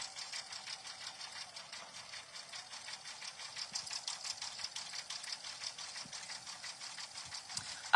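A sewing machine runs a dense satin stitch over a patch design, its needle chattering in a fast, even rhythm close by, steady and unbroken for several seconds with a faint click at the very end.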